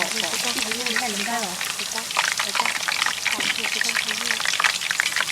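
Homemade potato chips crackle and sizzle steadily in hot frying oil while being stirred, a dense continuous hiss running the whole time beneath someone talking.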